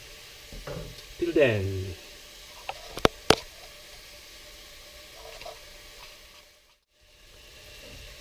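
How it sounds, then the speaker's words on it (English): Beef curry base fries in oil in a pan, giving a soft steady sizzle with a few sharp utensil clicks and a brief spoken phrase near the start. "this will fry for the next 3 minutes or so"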